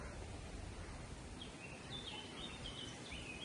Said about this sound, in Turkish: Kuş sesleri umarım duyuluyordur.